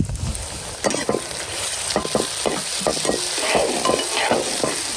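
Green chillies and small onions sizzle steadily in hot oil for a fish thokku, with a spoon scraping and stirring the pan in irregular strokes, close and fairly loud with no talking.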